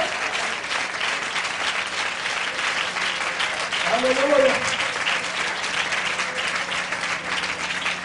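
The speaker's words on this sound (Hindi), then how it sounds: "ताली बजाकर विश्वास की ताली बजाए।" Steady applause from a crowd, dense and continuous throughout, with a voice briefly calling out over the clapping.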